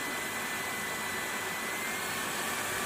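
A Kalado cordless 4-in-1 vacuum cleaner runs with a steady, loud, high-pitched whirring hum throughout, close up with no talk.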